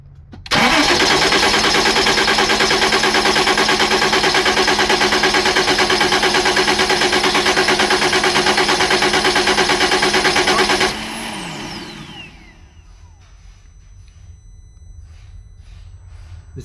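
A car engine cranks and fires during an oil pressure check, then runs loud and steady at a constant roar for about ten seconds before shutting down, with a winding-down whine and a faint hum left behind.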